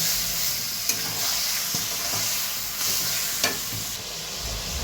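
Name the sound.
mutton being sautéed in a pan with cumin and bay leaves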